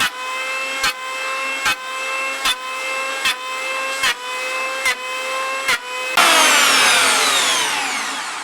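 A power tool cutting a scarf into a new wooden boat plank: a steady whining drone broken by short regular dips about every 0.8 seconds, ending in a louder, harsher burst of cutting.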